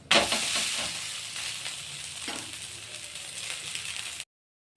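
Mung bean dosa batter frying in oil on a hot pan gives a steady, close sizzling hiss that fades slightly before cutting off abruptly near the end.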